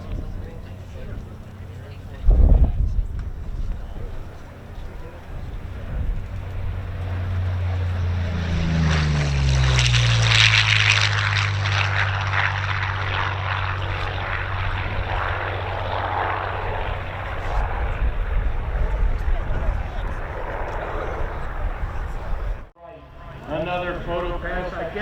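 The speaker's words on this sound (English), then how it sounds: "Here comes Tom Richard, TP-40N Warhawk." A TP-40N Warhawk propeller fighter makes a low photo pass at a World War II weekend air show. A loud thump comes first, then the piston engine swells into a close, throaty roar whose pitch drops as it sweeps past, fading before a sharp cutoff, with a crowd voice in the background.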